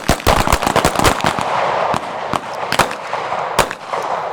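Pistol shots fired during a training drill in Nashville: a rapid, loud, close string of sharp cracks, clustered early and then spaced more widely, with no talk over them.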